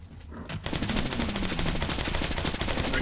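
Rapid automatic gunfire from the video game Metro 2033 bursts in after a quiet half-second and keeps rattling in dense, steady shots to the end, loud and close.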